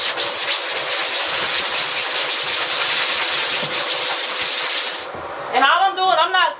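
Steady, close bristle scrubbing from a brush agitating a screen surface while pressure-washer cleaning, a harsh continuous rubbing for about five seconds before a voice takes over.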